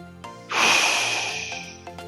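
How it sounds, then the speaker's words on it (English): A single forceful breath pushed out through the mouth during a lower back exercise, a close, loud, whooshing exhale lasting about a second before fading away. "When you squeeze your hips and try to do the compressions, breathe out with your mouth."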